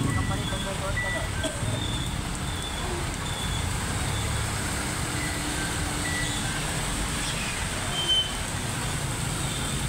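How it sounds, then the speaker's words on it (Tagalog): Steady roadway traffic noise in Pasig during rain, a dense continuous rumble of cars, buses and trucks heard from a Honda Mio i 125 scooter, with faint horn-like tones and no clear talk. "Traffic na sa Pasig."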